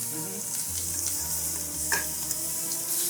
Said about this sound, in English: because I do want the high sear, I keep my pan on high